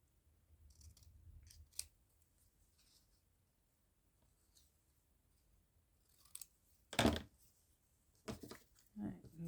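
Scissors snip through book page paper in a few short, close cuts separated by quiet pauses, with soft handling rustles between them.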